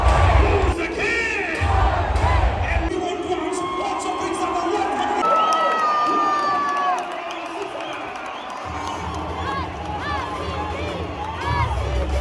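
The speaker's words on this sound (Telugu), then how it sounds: "నిజంగా అక్కడ స్టేడియంలో అరుపులతో చాలా బాగుండే." A packed crowd shouts, whoops and cheers at an IPL cricket match between RCB and another side at Chinnaswamy Stadium, forming a dense, continuous roar with rising and falling surges of yelling.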